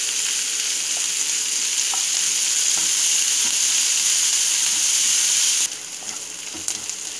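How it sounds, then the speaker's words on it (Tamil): Onions and curry leaves sizzle loudly and continuously in a pan, with a few light clicks and scrapes of stirring close by. Near the end the sizzle briefly drops in level. No speech. "கருவேப்பிலை போட்டு நல்லா இதை வந்து நல்லா வதக்கிக்கிறோம்."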